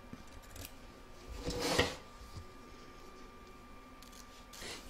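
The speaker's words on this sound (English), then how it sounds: "turn your hoop over to the back and then trim it up" Scissors trim excess fabric from the back of an embroidery hoop, giving a few close snips and rustles with one louder cut near the middle and a faint snip at the end.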